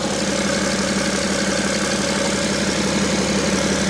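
A 2012 BMW X5 diesel engine idles close by with a steady, even rumble and a faint rhythmic clatter, continuous throughout with no talking.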